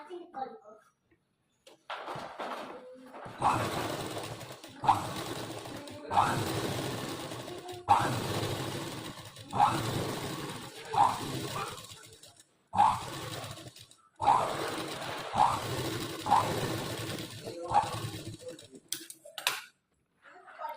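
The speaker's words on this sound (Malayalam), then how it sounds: "ഇനി നമുക്ക് ഇതിൻ്റെ ചുറ്റുഭാഗത്ത് ഒരു സ്റ്റിച്ച് കൊടുക്കാം വേറെ" A sewing machine stitches around the edge of a frock in short, loud mechanical bursts separated by brief pauses, close up, while someone speaks over and between the runs.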